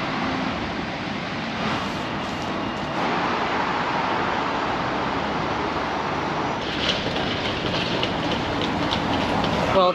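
A train to Edinburgh, Scotland rumbles along the rails with a steady, continuous roar and faint rhythmic clatter, heard from inside the carriage.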